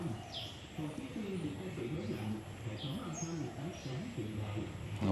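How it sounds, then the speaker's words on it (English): Jungle birds and insects near the Cu Chi tunnels, Vietnam, with bird chirps and calls scattered over a steady insect drone, alongside talk in the foreground. "All the birds and insects there."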